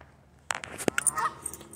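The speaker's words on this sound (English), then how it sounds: "The geese are unhappy with this one's visit." Geese honking close by after a brief quiet moment, a quick burst of several loud, harsh honks and squawks overlapping from more than one bird.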